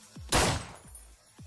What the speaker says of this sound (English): an up-close gunshot will sound like this